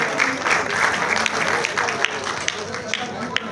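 An audience applauding a guest author at a Punjabi-language gathering, a sustained crowd clapping at moderate loudness, with faint talk mixed under it and a few sharper claps toward the end.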